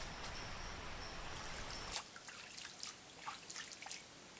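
Water trickles from a forest stream that feeds a waterfall, a steady broadband wash at first that drops to a quieter, thinner trickle with faint high splashes partway through.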